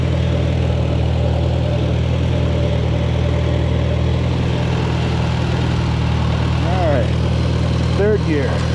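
Farmall Super A tractor engine running steadily in second gear, a loud, close, low chugging drone that holds throughout with no break, with brief squeaky mechanical sounds near the end.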